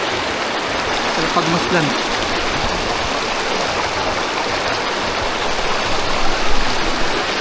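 Flowing river current in the Philippines, a steady dense rushing hiss throughout with a brief spoken remark near the start.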